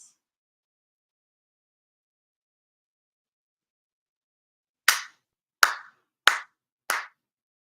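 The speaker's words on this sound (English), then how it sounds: "4 sincere claps." Four sharp ritual hand claps at a Konko Kōsha ceremony honoring Tenchi Kane no Kami, spaced evenly about half a second to a second apart after a long silence, crisp and close with no talking.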